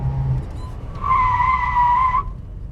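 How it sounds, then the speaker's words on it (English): A 1974 Datsun 260Z brakes hard from about 45 mph and its rear passenger-side tire locks up, letting out a sustained high screech for about a second over low engine rumble, then cutting off. "my rear passenger side right tire locked up"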